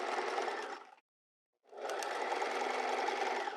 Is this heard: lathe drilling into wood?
no